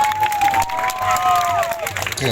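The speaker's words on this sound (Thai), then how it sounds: "เสียงปรบมือให้กำลังใจ นักกีฬาทั้งคู่นะครับท่านผู้ชมครับ" An audience at a Thai boxing match applauds with steady crowd clapping, while an announcer talks over it throughout.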